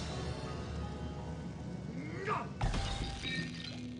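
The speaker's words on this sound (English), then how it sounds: "hit it with ice," An ice spell in Divinity: Original Sin freezes an enemy with a rising magical whoosh. A sharp crystalline shatter follows and rings out before fading into the game's ambient hum.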